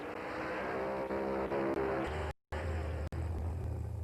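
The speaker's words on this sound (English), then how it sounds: "powered by a TFX supercharged alcohol-burning aluminium engine" A supercharged, alcohol-burning TFX aluminium drag-racing engine in a top doorslammer car roars loud and steady at close range. The roar cuts out briefly midway, then resumes with a short dip near the end.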